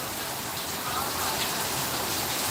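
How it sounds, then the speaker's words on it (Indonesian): Steady rain falls outdoors during a live Betawi street gathering, a dense even hiss that fills the whole stretch at constant loudness. "Alhamdulillah hujan, di sini hujan."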